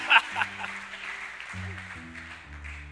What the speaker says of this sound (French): Quelqu'un ici acclame le Seigneur,